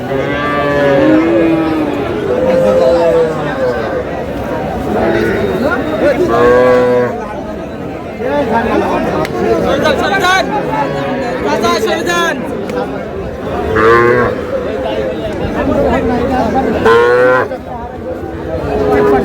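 Several young bull calves moo loudly and repeatedly, some calls drawn out, while people chatter nearby throughout at a cattle market in Barishal where prices are being bargained.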